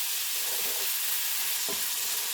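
Peach glaze sizzling in a hot frying pan while a utensil stirs it, a dense continuous hiss with a couple of soft scraping strokes, close and steady.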